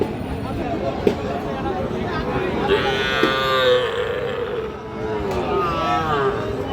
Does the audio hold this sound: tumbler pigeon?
no